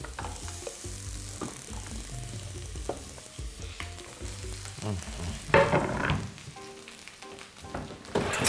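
Eggplant pieces fry in olive oil, a close, steady sizzle with stirring and scraping in the pan and brief louder bursts of crackle, no one speaking.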